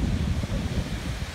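Pacific Ocean surf on the California shore, a steady low rumble of waves mixed with wind buffeting the microphone, continuous and fairly loud with no voices.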